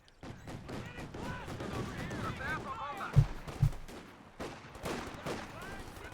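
Company of Heroes 2 battle with a flak gun firing on a rifle squad: scattered bursts of gunfire and a couple of heavy thumps, mid-distance, under a steady commentator's voice.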